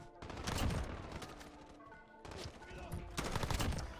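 Rapid bursts of M4 rifle fire in the Modern Warfare video game, loud and close, in three dense volleys separated by brief lulls.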